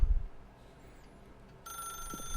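A telephone rings in a video game, a thin electronic bell tone starting partway through after a low thud and quiet room tone, fairly faint and alone.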